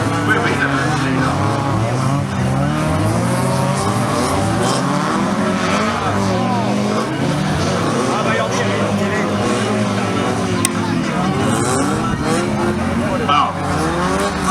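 Rally cars at a French motorsport event, the FOL'CAR round of the Coupe de France in Laon, race past with revving engines and tire noise, continuous and fairly loud beneath people talking throughout.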